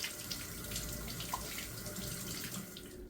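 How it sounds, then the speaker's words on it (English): Tap water runs steadily into a sink while hands are washed under it, a faint continuous splashing rush heard close, with no talking. "first off, we're going to wash our hands."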